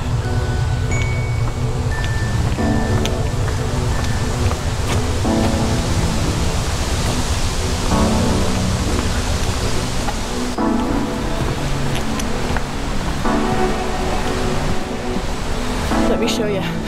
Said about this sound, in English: This is the creek here that you walk up to get to the falls.